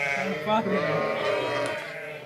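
Merino lambs bleat repeatedly during weighing on a farm, a steady chorus of overlapping cries close by, with people talking underneath.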